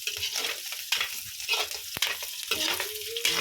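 Onions and garlic sauté in a pan for a pancit with vegetables: a soft, continuous sizzle of frying with the scrape and clatter of stirring, heard up close and without talk.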